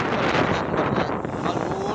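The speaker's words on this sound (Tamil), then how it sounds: "அப்படிப்பட்ட ஒரு சுத்தமான காற்று மழை காற்று இது" Wind blows outdoors ahead of rain, buffeting the microphone with a loud, continuous rushing roar that swells and dips slightly.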